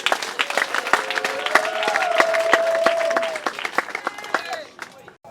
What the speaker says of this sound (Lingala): bobeta maboko makasi